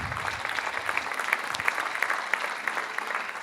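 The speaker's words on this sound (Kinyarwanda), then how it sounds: "amashyi menshi cyane kuri muzehe wacu" Audience applause for an elder at a Rwandan event: dense, steady clapping from a crowd that holds at an even level for several seconds, with a few sharper individual claps standing out.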